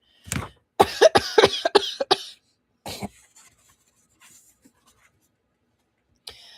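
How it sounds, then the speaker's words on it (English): A burst of harsh coughs in quick succession, then a few quieter wheezy breaths and a final short cough after a pause. "his outburst had induced another coughing fit"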